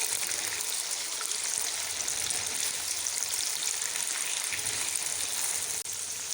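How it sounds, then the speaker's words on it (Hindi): Meat frying in a pan for palak gosht, a steady, dense sizzle that holds evenly throughout without pause, close and moderately loud, with no talking. "अब तकरीबन इसे 2 या 3 मिनट तक इस तरह फ्राई करेंगे।"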